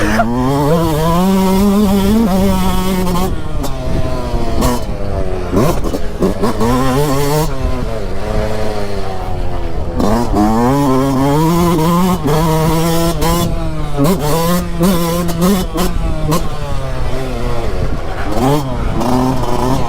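A loud Yamaha YZ 125 or YZ 250 2022 dirt bike engine revs and drops repeatedly through the gears, close and continuous, with a rider's voice occasionally audible under it.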